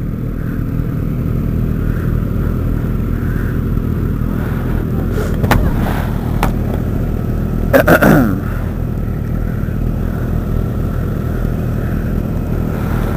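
A motorcycle idles in neutral while waiting at a long traffic light, a steady low engine rumble held close throughout, with a couple of brief louder swells partway through and no talking.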